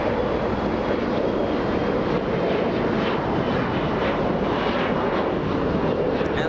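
A SkyWest Embraer E175 jet airliner at a major airport, its engines producing a steady, loud broadband roar that holds without a break, with no voices present.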